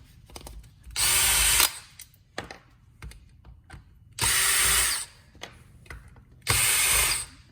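Power tool removing case bolts from a Brose e-bike motor during a belt replacement, three loud whirring bursts of about a second each separated by quiet gaps with small metallic clinks.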